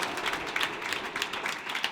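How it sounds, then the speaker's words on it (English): Audience applause after a squash final at a club open tournament, steady moderate clapping from a small crowd, fairly distant and continuous. "Big round of applause, ladies and gents."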